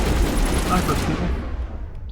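Rapid gunfire from a firefight in the video game Mass Effect, loud and dense at first, then thinning and fading toward the end.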